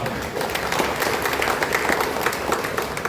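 Dense, steady applause from an audience at a guidance event for children of sanitation workers, many hands clapping at once for about three seconds, fairly loud and close, with no speech over it.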